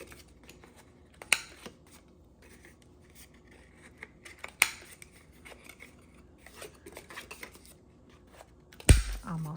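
Scissors snipping paper labels for an accordion-style craft project, with quick crisp cuts in short bursts amid paper rustling and handling noises, close up, and a louder clatter at the end.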